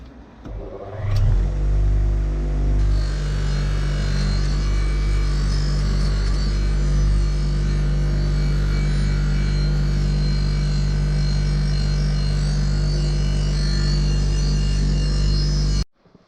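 A motor-driven medium abrasive wheel grinds road grime off a part from a BMW K100 cafe racer. It spins up quickly, then holds a loud, steady droning whine with a faint pulsing for about fifteen seconds before cutting off.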